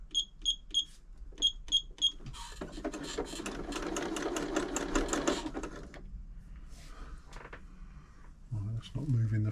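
A Janome Memorycraft 3000 sewing machine hums through a few seconds of rapid zigzag stitching after some short beeps, then stops; a voice speaks briefly near the end.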